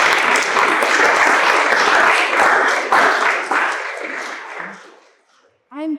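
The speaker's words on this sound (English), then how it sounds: "Please give yourselves a round of applause." A live audience at a performance piece gives a loud, sustained round of applause that gradually thins and fades out, followed by a brief voice at the end.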